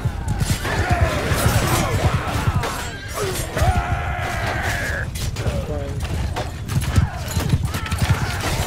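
Cavalry horses advancing in a strategy war game, with dense battle noise of hooves, clashing and crashing effects continuing throughout, mixed under game voices and shouted commands.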